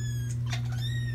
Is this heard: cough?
no